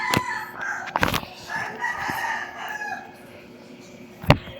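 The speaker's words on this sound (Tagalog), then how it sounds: "May manok oh." Chickens cluck and squawk close by in short irregular calls, with sharp clatters and background murmur of voices.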